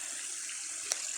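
Flood water flows in a constant, faint, hissing rush with one brief splash-like burst near the end, and no one speaks.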